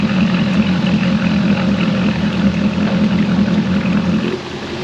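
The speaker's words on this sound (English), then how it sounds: "That's normal exhaust." A 2021 Nimbus C9 boat's engine runs through its normal exhaust setting, a loud, steady, close rumbling drone with a heavy low hum that eases slightly in level near the end, with no voices.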